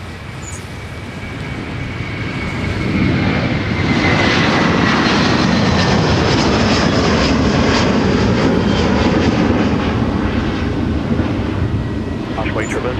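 A Delta heavy airliner's jet engines spool up for takeoff on runway 30 left at Minneapolis–Saint Paul airport, a loud, sustained roar that swells and holds. Faint voice chatter sits underneath.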